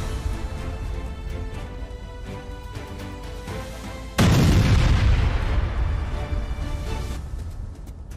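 A 2S19 Msta-S self-propelled howitzer with a 152mm 2A64 gun fires, a sudden loud boom cutting in over a rumbling background and decaying into a long low roll.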